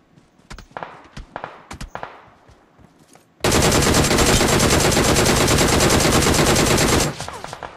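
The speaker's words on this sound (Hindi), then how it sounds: "अगर रोहित ऐसे रेंडम फायर नहीं करता तो शायद हम लोग वहां पे बच जाते" Gunfire in the mobile battle royale game Battlegrounds Mobile India: several separate sharp shots are followed by a loud, continuous burst of automatic fire lasting several seconds, then a few trailing cracks.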